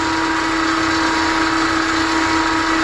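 A bench grinder grinds a skew paring chisel, giving a loud, unbroken high whine with a steady motor hum underneath.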